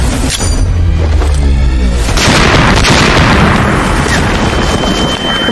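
A grenade blast from an action film booms loudly right away, followed by a long, dense rumbling roar of debris and noise that stays loud throughout, with no talking.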